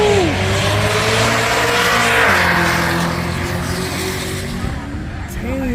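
Cadillac drag race cars launch down a quarter-mile strip, their engines roaring loud and close with rising, sweeping revs and a hint of tire squeal, while voices talk over the din throughout.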